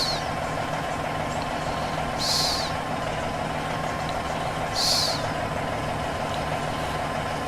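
A truck maneuvering a trailer, with a steady engine rumble throughout and two short hissing air bursts a few seconds apart, heard from close by with no talking.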